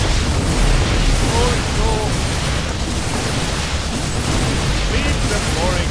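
A nuclear bomb detonates in a real-time strategy game, giving a loud, sustained rumbling roar with crackling bursts that carries on under a voice talking.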